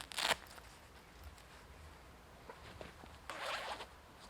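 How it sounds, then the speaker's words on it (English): Pit zips on a Buffalo Special 6 smock with a Pertex outer, zipped in two quick rasping pulls, a short sharp one at the start and a longer one near the end, close and clear with no talking. "Pit zips that zip down for venting or up"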